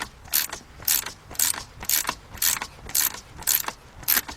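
A pulley puller removes a pulley from a 1998 Cadillac Seville with the 4.6 engine, making a steady rhythm of about eight ratcheting clicks at roughly half-second intervals, close and moderately loud.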